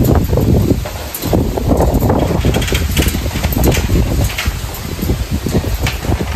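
Strong typhoon wind buffets the microphone in a steady, loud roar with gusty low rumble and rustling, continuous throughout with no clear talk.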